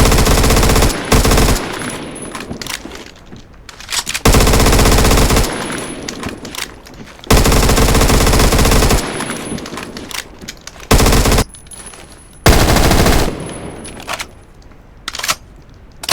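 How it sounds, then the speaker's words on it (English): A small minigun with a 30-round magazine fires in Phantom Forces, loud rapid automatic bursts of one to two seconds repeating at intervals, with mechanical clicks and handling noises between them. "this is a pretty small minigun because it has like a 30-round magazine"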